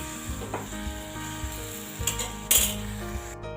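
Spice paste frying with pointed gourd in a pan for a vegetarian Bengali curry, giving a close, continuous sizzle with occasional metallic clinks from a spoon knocking against the pan.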